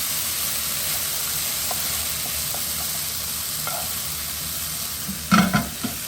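Lightly cooked vegetables in a pot being stirred after the lid comes off, a steady soft sizzle and steam hiss with a few quiet clinks and a short burst of stirring scrapes near the end.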